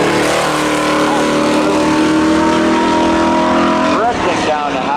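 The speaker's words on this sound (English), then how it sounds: "Out off the red limiter, down they go drag race down into 1" Cars in spectator drag racing at Seekonk Speedway, among them a 2000 Camaro, scream loudly off the rev limiter and accelerate hard, with a second engine surging near the end, while an announcer talks over it.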